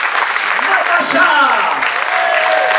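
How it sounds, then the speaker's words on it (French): Brief burst of dense audience clapping for improvisers at a festival show, steady and loud for a few seconds, with a voice speaking over the applause. "je vous prie d'applaudir très fort"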